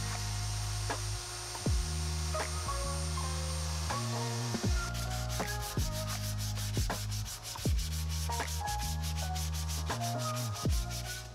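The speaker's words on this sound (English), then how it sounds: "After sanding the tops and edges," Wooden side table tops and edges being sanded make a long run of close, rhythmic rubbing strokes, each pass scraping evenly against the wood with a faint hum beneath and no voices.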